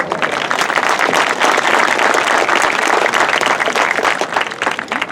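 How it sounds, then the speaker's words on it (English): An audience at a school gathering applauding loudly, a dense sustained wash of many hands clapping throughout, close and continuous, with no voices over it. "please give them a round of applause"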